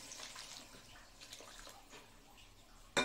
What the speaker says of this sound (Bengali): এই যে গরম জল দিয়ে দেবো, তাড়াতাড়ি হবে।